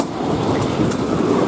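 A narrow-gauge steam locomotive train on the Haivoron line rumbles along steadily, a dense, continuous rolling roar with faint rhythmic rail clatter, loud and close, with no voices.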